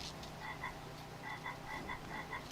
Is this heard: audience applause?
no